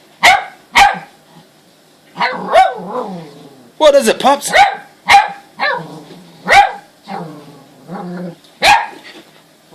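A dog barks in sharp, loud bursts at an alarm clock, with a few growls and whines between the barks, while people talk over and around it.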